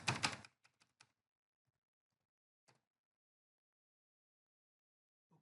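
A password typed on a computer keyboard during a Linux software installation: a quick burst of close key clicks, a few isolated taps, then near-silence broken by one more keystroke.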